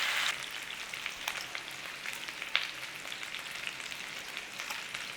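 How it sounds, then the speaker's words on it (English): Bacon sizzles and crackles in a pan for an Irish boxty breakfast, a steady hiss with scattered pops and spits throughout, close and moderately quiet, with no voices. "I'll start putting some of that bacon in there. And obviously you crisp up, cook down your bacon to how you like."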